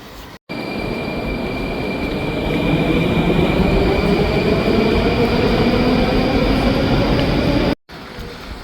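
Metro train running through a Russian subway station, a loud steady rumble of wheels on rails with a high sustained squeal, continuous and close, briefly cut at the start and end.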